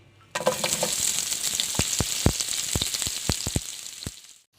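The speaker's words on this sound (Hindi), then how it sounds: "और प्याज को हम अच्छी तरह फ्राई करेंगे।" Sliced onions hit hot oil in a pan and set off a sudden bright sizzle that holds steady, with sharp scattered crackles and pops throughout before it fades at the end.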